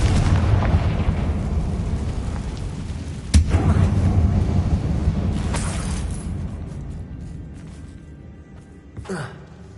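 A spell blast from the Bombarda charm in Hogwarts Legacy goes off inside an abandoned mine. It gives a loud, booming burst that rumbles and fades over several seconds, followed by a sharp crack near the end.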